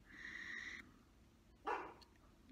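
A 13-year-old Maltese dog gives a short, sharp bark at mid-distance, standing out as a single burst over quiet room tone after a sustained tonal sound.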